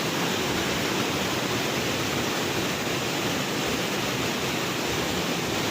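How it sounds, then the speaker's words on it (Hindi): Waterfall at the Jatmai temple, a constant broad rush of falling water that stays steady and fairly loud throughout, with no voices or other distinct sounds above it. "इधर का झरना तो आप लोग देख ही सकते हो, बहुत ही सुंदर ही नज़ारा झरना।"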